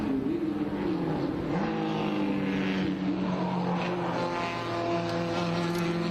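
A Ferrari 166 race car drives a track at a vintage race, its engine a steady, loud drone with shifting pitch as it passes, continuous throughout with no talk.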